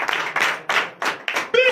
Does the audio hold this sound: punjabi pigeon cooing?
no